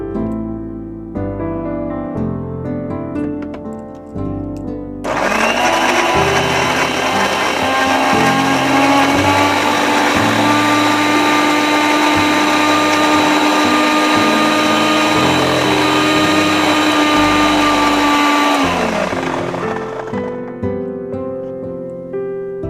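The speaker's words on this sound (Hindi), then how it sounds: "और इसे अब हम एक बार प्यूरी बना लेंगे।" An electric blender runs steadily for about fifteen seconds, a loud, continuous whirring roar as it purées ingredients for a milkshake. Soft background music plays before it starts and after it stops.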